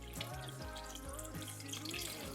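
Warm water is poured into a measured amount for a recipe, a quiet continuous gurgling pour with rising tone as the container fills.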